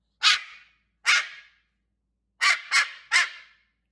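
A dog barks loudly and close by, two separate barks followed by a quick burst of three.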